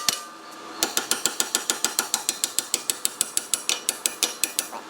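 A pry chisel hammered into a Ford wheel bearing makes a rapid, steady train of sharp metallic clacks, about five per second, loud and close, after a short quiet start.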